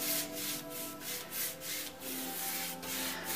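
Chalk paint brushed onto a wooden dresser: soft, repeated rubbing strokes in a steady rhythm, close and fairly quiet, with no voice.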